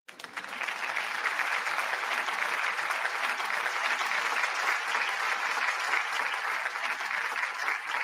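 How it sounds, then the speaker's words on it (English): A round of applause from a crowd, dense steady clapping that holds at an even loudness for the whole stretch with no voices. "I want to give y'all a round of applause"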